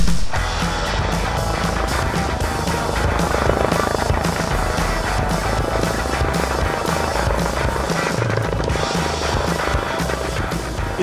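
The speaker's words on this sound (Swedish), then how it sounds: "Istället för att åka bil 3 timmar ner till Västervik så tar det bara 1 timme med den här helikoptern." A helicopter flies steadily throughout, its rotor throbbing and engine droning loud and close without a break, carrying passengers on a trip toward Västervik.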